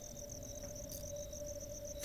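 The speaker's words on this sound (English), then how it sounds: "We have crickets chirping." Crickets chirp in a steady, continuous pulsing chorus within an autumn outdoor scene of the horror game Crow Country, a constant ambient bed with no talking.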